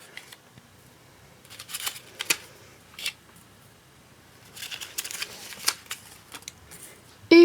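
Cards drawn from plates for a grammar workshop: soft, scattered papery slides and taps in several small clusters, quiet and close, with a sharper click at the end.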